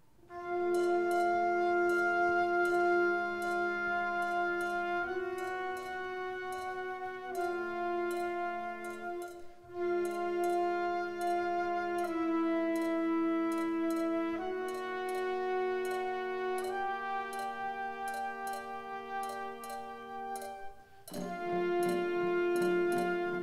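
A band plays an original composition, a dense ensemble of sustained harmonies under steady sharp percussive accents, loud and continuous with a brief dip partway through.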